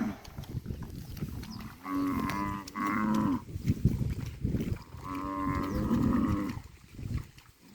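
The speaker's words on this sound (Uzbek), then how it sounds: "Sigirlar, bolalari." Cows and their calves graze beside a reed-fringed lake, lowing in two long, drawn-out moos, one after the other, close by with quieter rustling between them.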